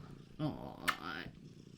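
A domestic cat named Jazz purrs softly and close by, while a person talks over it.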